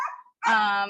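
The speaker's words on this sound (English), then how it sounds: "Please excuse my dogs barking in the background." Dogs barking at a farm where lilies are grown in crates: a short yelp, a brief pause, then a louder sustained whining bark with strong harmonics, fairly close.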